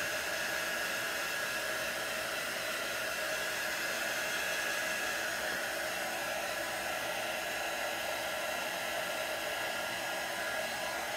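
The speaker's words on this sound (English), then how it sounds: "Hair dryers work well also." A hair dryer blows steadily in a continuous close, loud whooshing roar with no change in pitch or level, and no voices.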